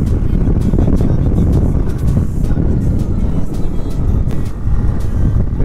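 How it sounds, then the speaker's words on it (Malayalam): An Aprilia SR150 scooter's engine hums steadily while riding, its drone mixed with heavy wind rush throughout. "പിന്നെ എൻജിൻ്റെ സൗണ്ട് നമുക്ക് നന്നായിട്ട് കേൾക്കാൻ പറ്റും."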